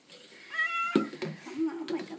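A pet cat named TJ meows during a bath, several short plaintive cries rising over splashing and handling noises, close by, with a person talking softly between the calls.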